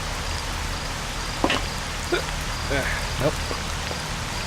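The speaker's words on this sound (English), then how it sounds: "It's raining like crazy." Heavy rain pours steadily in the S.T.A.L.K.E.R. Shadow of Chernobyl game world, a constant dense hiss with a few brief knocks over it, while someone speaks a single word.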